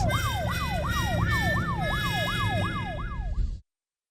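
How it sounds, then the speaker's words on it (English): A loud, close police siren wailing in a fast repeating up-and-down sweep over road rumble, cutting off abruptly, in Washington, D.C. "What's that sound? That, Anna, is the police"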